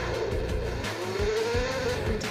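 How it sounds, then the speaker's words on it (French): A video game race car drives a circuit, its engine droning and shifting pitch steadily with a brief rise in revs and faint tire noise, close and constant with no talk. "Qu'est-ce qu'elle roule bien cette voiture?"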